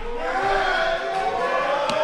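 A women's wrestling crowd rallies behind Jordynne Grace, a steady, sustained roar of cheering and chanting voices that fills the arena.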